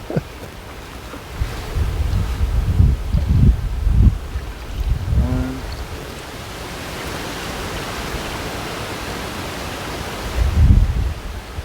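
Water is poured from an outdoor guppy pond into a net, a broad splashing wash that runs for several seconds, with a few thumps and handling noises at the start and again near the end.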